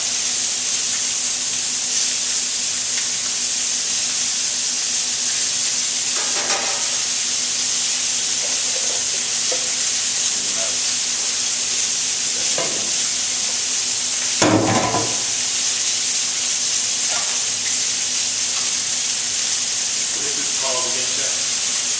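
Proteins fry in a paella pan with a steady, loud sizzle and hiss throughout, and someone talks over it with a few brief clatters of stirring.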